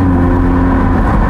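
Audi R8 Spyder V10 (540 hp, 2017) engine droning steadily at high Autobahn speed, a loud continuous low-pitched hum with road and wind noise, no voices.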